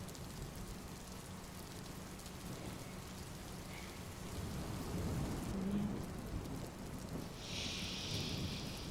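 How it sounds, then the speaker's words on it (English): Steady rain falling on surfaces with rolling thunder that swells midway, a continuous soft wash throughout with no talking. "I don't like the rain."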